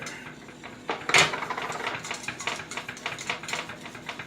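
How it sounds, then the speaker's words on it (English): Custard filling for pastel de nata being stirred in a pot, with a steady run of light scraping and clinking from the utensil against the pot, close and moderately quiet with no talking. "now you're gonna start to stir"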